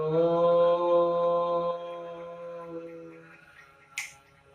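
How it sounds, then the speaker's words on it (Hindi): One sharp finger snap near the end, falling during Shabda Pranayama breathing practice after a long sustained hummed tone that fades away. "देखिए ध्यान से, चुटकी बीच में बजेगी।"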